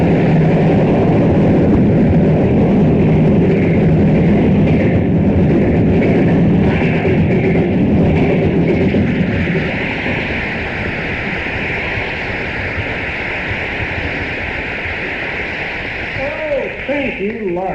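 A man imitates a train with his voice, a loud, continuous rushing, chugging roar that shifts midway into a steadier, thinner whistling tone.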